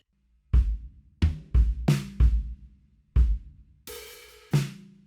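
Close, solo drum kit playing a groove, alternate approach: crisp kick and snare strokes in a syncopated bar, then a sustained open hi-hat splash before a final hit.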